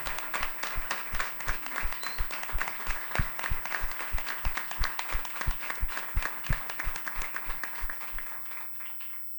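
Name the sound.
audience applause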